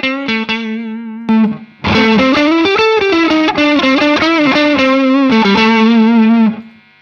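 Electric guitar on the neck pickup played through a Rockett Flex Drive overdrive pedal into a Palmer DREI, with a few plucked notes and then sustained, gritty distorted phrases that ring loud and up close before cutting off.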